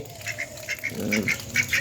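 Ducks quack in a quick series of short, nasal calls, fairly close and slightly overlapping, with no talking.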